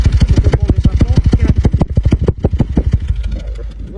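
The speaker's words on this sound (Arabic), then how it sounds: "هذه عندها فيبراسيون كبيرة في الموتور" A 2014 Dacia engine at idle with a fault causing strong vibration and loss of power, heard up close as a steady, loud rhythmic pulsing throb that softens toward the end.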